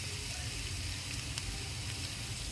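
Mustard seeds and green chilies sizzle in hot oil for North Karnataka avalakki, a steady, loud, dense crackling hiss with scattered pops and no voices.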